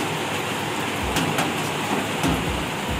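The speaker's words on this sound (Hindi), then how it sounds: "पूरा दिन मतलब दोपहर से शुरू हुआ और कंटिन्यूस बारिश हो रहा है।" Steady rain falls continuously in the Andaman Islands, a dense hiss with occasional louder splashes, heard alone without any voices.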